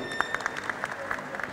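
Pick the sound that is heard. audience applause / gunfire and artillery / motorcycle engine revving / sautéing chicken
audience applause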